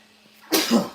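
A single sharp sneeze bursts out after a moment of near silence, loud and close.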